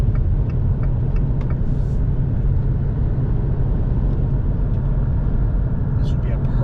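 A lifted and modified 2018 Jeep Renegade with a 4-cylinder engine drives along, a steady low engine and road rumble running throughout beneath a voice.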